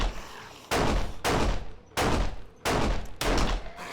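Automatic gunfire in 7 Days To Die during a horde night: five loud, close bursts of rapid shots, each lasting about half a second, separated by brief pauses.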